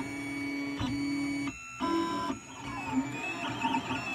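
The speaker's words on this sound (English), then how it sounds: "This is Hatchbox Pink ABS. So far it seems to be printing okay." A 3D printer lays down pink Hatchbox ABS filament, its stepper motors whining in shifting tones with brief pauses and changes of pitch as the head moves, close and steady.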